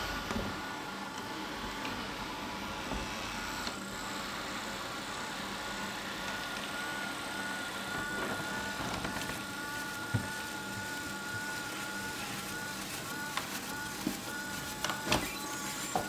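A Roborock Qrevo Edge robot vacuum drives back to its dock indoors, giving off a steady whirring motor hum with faint tonal whines and occasional light bumps and clicks.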